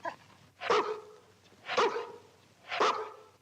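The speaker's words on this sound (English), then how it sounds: "Be a good dog now." A dog barks three times at an even pace, each bark about a second apart, loud and fairly close, with a quiet background between the barks, heard in a 1954 crime film.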